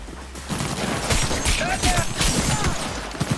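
Rapid bursts of gunfire in the video game Cyberpunk 2077, a loud, dense fusillade of shots layered with game noise and occasional voices.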